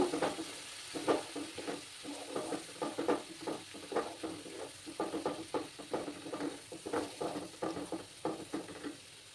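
Kashmiri chili spice masala with a splash of water is sautéed in a pan for egg do-peyaja, with close, rhythmic scraping stir strokes over a soft, low sizzle that repeat steadily throughout.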